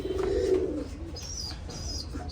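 Rajshahi Giribaj pigeons in a loft, one close, low throaty coo at the start followed by fainter bird chirps in the background.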